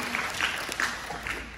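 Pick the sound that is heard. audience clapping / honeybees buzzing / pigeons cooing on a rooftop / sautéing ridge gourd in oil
audience clapping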